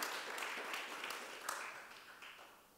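A panel audience at a conference on trans, inter and non-binary inclusion gives a speaker soft, distant applause, a steady wash of clapping that fades gradually over a few seconds.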